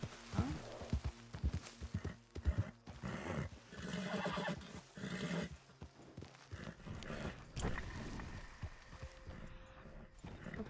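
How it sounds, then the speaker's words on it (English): A horse in a video game whinnies and neighs repeatedly, with hooves clip-clopping between the calls at moderate loudness, plus scattered footsteps and rustling. "there's a horse"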